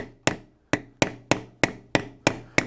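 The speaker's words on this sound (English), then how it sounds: "Give it some more whacks." Eight sharp hammer blows strike a metal alphabet stamp, each a crisp, close knock with a short decay, falling in a fairly even rhythm.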